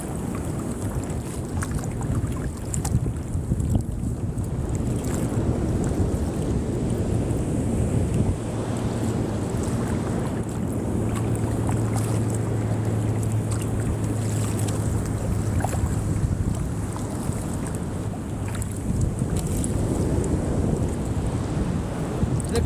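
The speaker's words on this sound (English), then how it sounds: "I don't know if you guys can hear the waves on the live." Waves wash steadily against a fishing boat in a swell, a continuous surging rush mixed with heavy wind buffeting the microphone and no clear talk.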